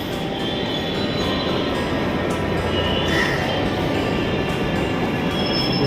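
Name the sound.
Delhi metro train arriving at station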